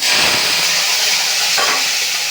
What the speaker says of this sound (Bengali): তেল দিয়েছি, তেলটা গরম হচ্ছে, এবার সবজিগুলোকে একটু ভেজে নেব।